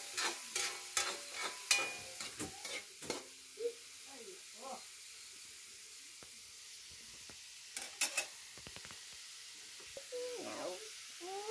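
Carrots and bagyu beans stir-fried in a pan for pancit-style noodles, with scattered scraping stirs and light sizzling, close and moderately loud, with a few voices talking now and then.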